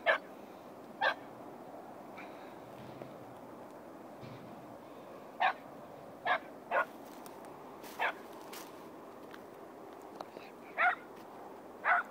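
Hunting dogs searching brambles for a rabbit give sharp, isolated barks and yips spaced irregularly over a quiet outdoor background, moderately distant, around ten calls in all.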